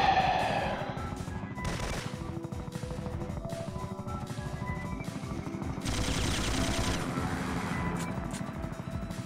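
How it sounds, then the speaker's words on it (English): Rapid gunfire from a video game boss fight, sustained loud bursts of shots running through the whole stretch over a busy game soundtrack, with no talking. "Maybe you can dodge the gunfire."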